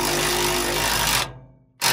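A power tool tightens bolts on mobile home axles, a loud close whirring run that winds down, pauses briefly, then starts again.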